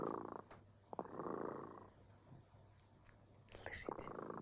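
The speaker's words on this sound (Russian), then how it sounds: "Слышите, кот Ремота запел свою песенку" A cat purrs softly and close by in rhythmic pulses, low and faint, with a few quiet whispery breaths and small mouth noises in between.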